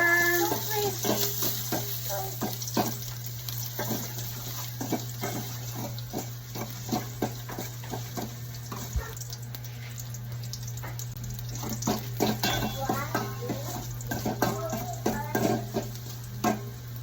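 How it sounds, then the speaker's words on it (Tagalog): Ginger sautéing in a pan as the first step of Filipino chicken tinola, a busy sizzle with frequent stirring scrapes and clinks over a steady low hum, close and continuous with no talk. "Magigisa tayo ng luya."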